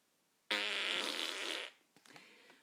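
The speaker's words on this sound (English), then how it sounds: "his big, gross, disgusting fart" A big, long fart sound effect blasts out loud and buzzy for over a second, then trails off into a few small sputters, alone with no talking.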